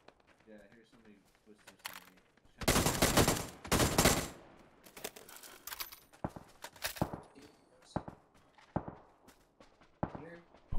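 Bursts of automatic gunfire in an online shooter video game, some loud sustained volleys up close and scattered shorter shots, with players talking over the action.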